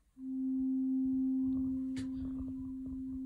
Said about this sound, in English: if we monitor the sine wave from the Rubicon,